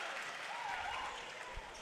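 A crowd at a girls' high school basketball state tournament game cheering and applauding, a dense roar of clapping and voices held for about two seconds.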